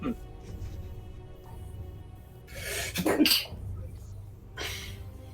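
A person at a tabletop role-playing game sneezes once, a sharp close burst around the middle, amid a couple of other breathy throat sounds and a low room murmur.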